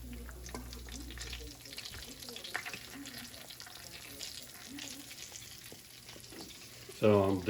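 Doubled batch of roux for a Cajun chicken sausage gumbo cooking in a pan on the stove, a low steady sizzle with soft stirring scrapes, fairly quiet and close, ending in a brief louder clatter.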